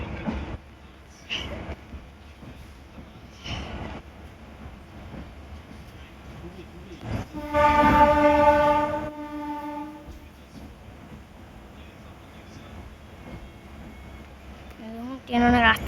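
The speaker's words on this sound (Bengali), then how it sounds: "ট্রেন অনেক রাস্তায় চলতেছে, আপনারা দেখুন ট্রেন অনেক রাস্তায় চলতেছে" A train rumbles along the track with a steady rolling clatter, then sounds a loud, sustained horn blast in the middle before the rumble continues; someone talks over the running noise.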